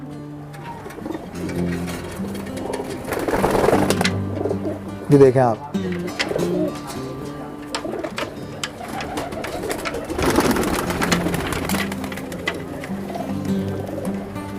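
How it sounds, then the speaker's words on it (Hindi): Teddy pigeons of the Jaipur Tonk breed coo in deep, rolling bursts, close and fairly loud, with someone speaking briefly over them. "टेडी कबूतर कैसे लगे"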